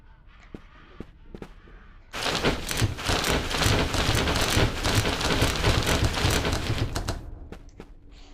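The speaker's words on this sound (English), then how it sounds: "It's a rainy day." Rain and thunder in the Animal Company video game: light patter at first, then a sudden heavy downpour roars steadily for about five seconds with rumbling underneath before easing back to a quieter patter.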